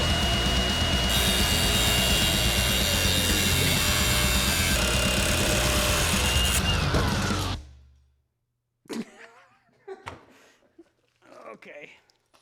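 Power tool cutting off a section of metal during a Mustang battery relocation, a loud steady grinding whine for about seven seconds that stops abruptly, followed by quiet talk.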